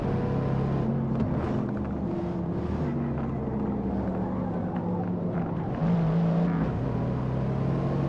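Mercedes C63 engine in Gran Turismo 7 holding a loud, steady drone with a low harmonic tone that shifts pitch slightly, rising a little louder near the end, continuous throughout with no talk.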